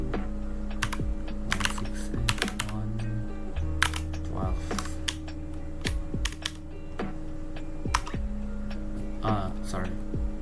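A computer keyboard clicks as an IP address is typed, a few quick keystrokes followed by irregular single taps, close and clear. A steady electrical hum and low murmurs run underneath.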